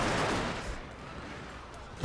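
Battlefield gunfire from troops in Total War Shogun 2: Fall of the Samurai, a dense crackling volley that is loudest at the start, then fades to a steady rumble before a final sharp burst.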